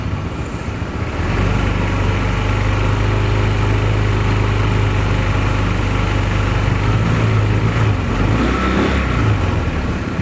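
A 2026 Honda PCX 160 scooter engine idles steadily up close, a continuous low droning hum with a slight rise in pitch partway through, no talking over it.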